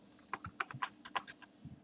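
Keyboard keys are tapped at an irregular pace while text goes into an arrow shape on a PowerPoint slide. About a dozen soft, close clicks sound in a quiet room with no talking.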